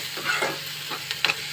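Fish eggs frying in a pan are stirred with a spoon, giving a steady soft sizzle broken by a few scraping strokes and light clinks, close up with no talking.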